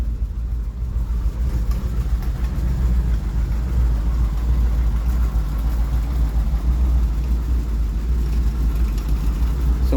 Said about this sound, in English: have a listen to it idling